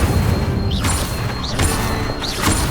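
An Incendio fire spell cast in Hogwarts Legacy erupts as a series of loud fiery bursts and whooshing blasts, about three of them in quick succession, over a dense rumbling game soundscape.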